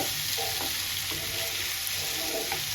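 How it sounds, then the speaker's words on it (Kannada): Ivy gourd frying with onion and tomato in a pan, a steady close sizzle running through with faint stirring scrapes, no voices. "ಬಟ್ ಇದು ನೀಟಾಗಿ ಫ್ರೈ ಆಗಲಿ"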